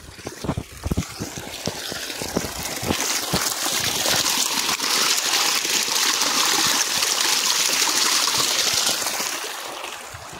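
Water flowing in a village stream makes a steady, close rushing wash with a few sharp splashes and knocks early on. No one speaks.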